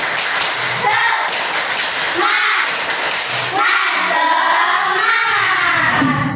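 A class of children clap in rhythmic patterns during a school lesson, loud and close, with chanting voices running through the claps.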